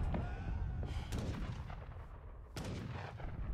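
Artillery pieces fire repeatedly in an Age of Empires III: Definitive Edition tournament match, sharp booming shots in irregular bursts over a busy battle din, faint and distant in the mix.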